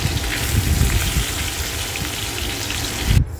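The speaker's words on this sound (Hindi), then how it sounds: "तो धीरे धीरे करके मछली फ्राई हो रही है।" Fish fries in hot oil in a pan, a steady dense sizzle and crackle that stays close and even throughout, with no talking.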